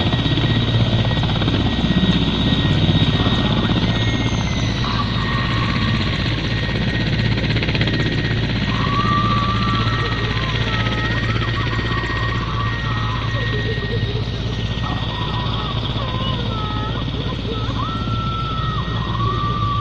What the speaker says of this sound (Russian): A helicopter with a dev unit is arriving on scene.